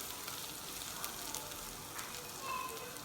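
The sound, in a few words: onions and green chillies sautéing in oil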